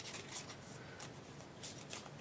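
Matte-finish board game cards shuffled in the hands, a soft continuous riffling rustle with a few brighter bursts of flicking, close and fairly quiet.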